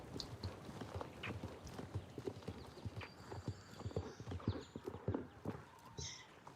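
Horses in a video game clip-clopping on the ground, a steady stream of hoof knocks at close range, joined near the end by a short whinny.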